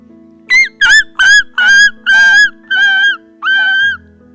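A man mimics a dog's crying with seven whining, yelping bursts in quick succession, each a little longer, loud and close against a low steady hum.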